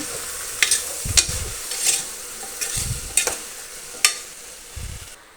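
Spoon scrapes and stirs turmeric, salt and chili powder through a pan of bottle gourd curry, several distinct strokes with soft low thuds over faint background sizzle, no talking.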